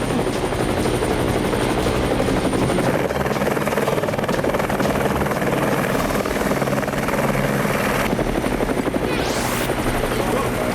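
A cartoon helicopter flying, its rotor droning loudly and continuously close by, with a brief rising whistle near the end and no talking.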